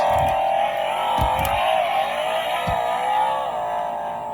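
A whiny toy engine drone rises and falls steadily, with a few soft clicks and thumps from rolling wheels underneath, from a Spin Master 1/18 scale electronic Batmobile toy.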